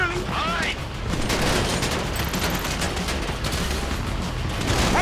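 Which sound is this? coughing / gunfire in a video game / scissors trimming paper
gunfire in a video game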